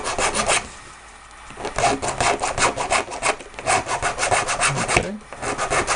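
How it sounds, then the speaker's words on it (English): Steady back-and-forth rasping of a jeweler's file sanding the surface of a 3D-printed prosthetic hand part, close and loud in rhythmic strokes with a short pause early on and a brief spoken word. "this can be done with the jeweler's file, you want to just take and sand the surface"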